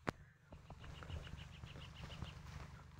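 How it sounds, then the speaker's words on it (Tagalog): Wild birds calling in a forest, a quiet series of short repeated chirps at an even rhythm over faint rustling, distant and soft, with no talk. "Maraming ibon dito, yung mga wild."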